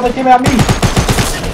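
Fortnite gunfire, a rapid burst of close, loud shots rattling for about a second right after a short shouted line.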